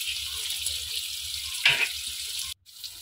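Prawns fry in a pan with a steady close sizzle, broken by a brief louder spatter midway and a sudden drop to near silence near the end.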